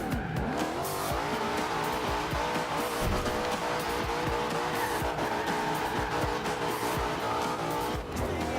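A car spinning out in the racing game Forza Horizon 2, its engine roaring loud and close under a long, continuous tire squeal that ends in a brief dip.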